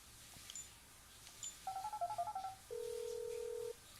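An old mobile phone in GTA 5 gives a couple of short beeps, then a quick run of dialing tones and a long steady ring tone, fairly quiet and heard on its own.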